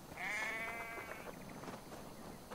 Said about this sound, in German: Klingt wie ein Schaf, aber nicht wie ein glückliches.